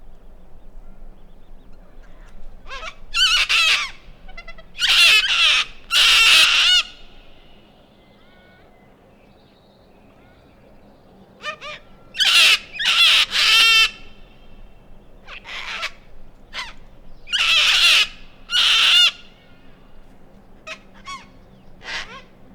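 Sulphur-crested cockatoo calling around the Morgan township and lagoon area, loud harsh screeching bursts in several clustered groups with short pauses between, close and prominent over quiet background.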